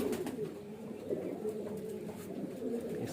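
Soft, continuous cooing from young highflyer Sheetla pigeons, several birds murmuring close by over a low background hum.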